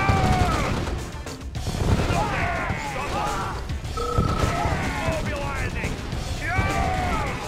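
Gunfire and explosions in the strategy video game Yuri's Revenge, with dense bursts of shots, booms and crashes through a chaotic battle mix and occasional voice lines and sharp effects.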